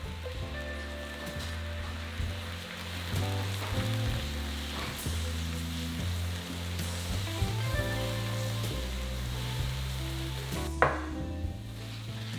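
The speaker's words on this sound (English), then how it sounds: "Now watch what happens when the wine hits the pan." Wine poured into a hot pan after browning beef for an Italian peposo stew, giving a steady, close sizzle and crackle with faint clinks from stirring the deglazed pan.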